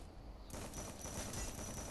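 Dense, continuous automatic gunfire from the Garena Free Fire video game, a rapid crackling fusillade that sets in abruptly and fills the short moment at moderate loudness.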